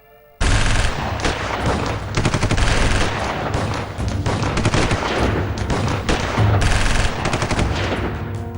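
A loud, sustained burst of AK-47 automatic gunfire in the middle of a street in Ghaziabad: rapid shots crackle in a dense, unbroken stream that lasts several seconds.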